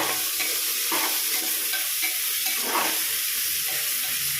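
Ginger garlic paste fries and is stirred in a pan with browned onions for pulao, a close, steady sizzle broken by repeated scraping stirs.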